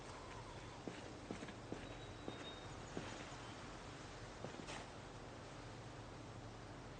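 Footsteps in the Project Zomboid video game, a series of soft, evenly spaced clip-clop steps over steady background noise, fading out partway through.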